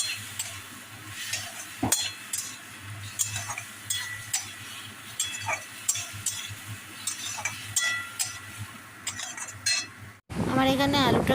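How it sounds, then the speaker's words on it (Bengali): Potatoes cooking in a pan with spices and a little water: a soft sizzle under steady scraping and clinking of a spoon against metal. A voice speaks briefly at the end. "এবার জলটার সাথে খুব ভালোভাবে আলুটাকে কষিয়ে নেব।"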